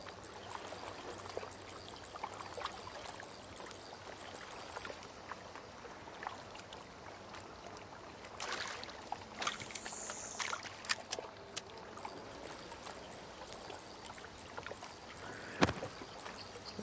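Gentle lapping and trickling water on a pond in the fishing game Call of the Angler, a quiet continuous wash with a few louder splashes and sloshes toward the middle and a sharp knock near the end.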